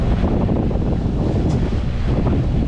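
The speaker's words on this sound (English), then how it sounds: "Actually turned out to be quite good wind now." Wind buffets the microphone aboard a sailboat on a close reach off Panama, a loud, steady roar with water rushing underneath and no voices.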